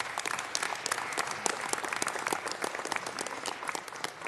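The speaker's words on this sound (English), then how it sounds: "Let's give another round of applause." Applause at a city council meeting, with many hands clapping in a crisp, continuous patter that is fairly close and steady throughout.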